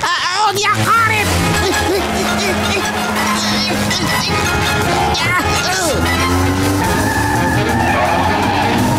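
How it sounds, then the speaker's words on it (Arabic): Loud, sustained tire-like skidding screech as a cartoon boat slides after its handbrake is pulled, with engine noise and shifting squeals running for several seconds, plus cartoon voices and effects around it. "سبونج بوب، مكابح اليد."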